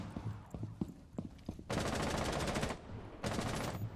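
Rapid automatic gunfire in a ranked Rainbow Six Siege match, a few scattered single shots followed by two loud sustained bursts, close and dominant with no talk.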